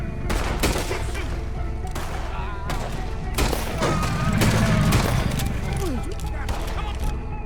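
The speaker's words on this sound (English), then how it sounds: "Keep shooting." Dense gunfire from the video game Red Dead Redemption 2 during a shootout, with rapid overlapping shots and booms over a constant loud backdrop and voices talking in the mix.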